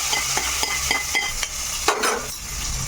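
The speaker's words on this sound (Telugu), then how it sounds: "మనకి తాలింపులు వేగిపోయినాయమ్మా పని చేసేస్తాను తాలింపు వేసేస్తాను" Hot oil crackles and sizzles as tempering is poured into cooked dal, with a burst of sizzling partway through and light clinks of utensils.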